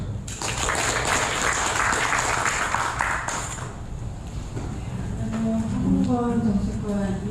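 Audience clapping at an aviation security forum welcoming a ministry official to speak, a dense burst of applause for a few seconds that fades into quieter room sound.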